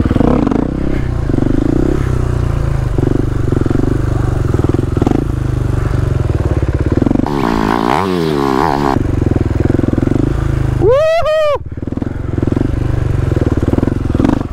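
A motorcycle is ridden in circles for a trick, its engine droning loud and steady and close throughout, with a scraping, warbling passage in the middle and a sharp rising rev near the end.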